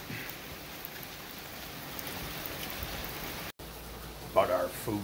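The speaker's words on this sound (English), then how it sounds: "Well, we got rained out." Steady, soft hiss of rain falling outdoors during outdoor cooking, fairly faint and even throughout, with a brief burst of voices near the end.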